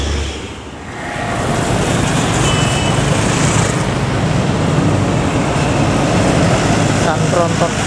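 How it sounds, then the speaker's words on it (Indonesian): A heavy tronton truck rolls past on a busy roadway, a loud sustained rumble of engine and tire noise filling the scene, with traffic around it and a few short beeps near the end. "Dan tronton."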